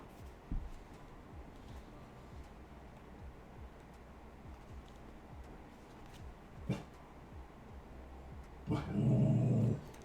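A dog growls and yips faintly at a distance over a low steady hum, ending in a louder bark or burst of noise near the end.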